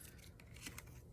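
Scissors snip through paper or ribbon, a few quiet close crisp cuts with a faint metallic shearing, very soft and brief against low room noise.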